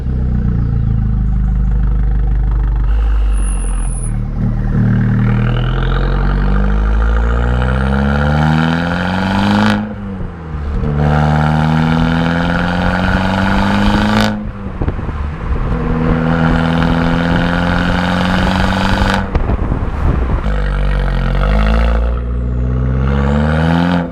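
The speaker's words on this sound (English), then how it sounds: "the small passive butterfly valve will actually open up, and it'll make more sort of like a reverberation sound" Abarth 595 Competizione 180 with a passive butterfly-valve exhaust revs repeatedly, engine pitch climbing and dropping in several loud, close bursts with brief lifts between them, no talking.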